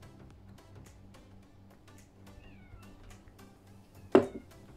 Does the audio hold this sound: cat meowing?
yes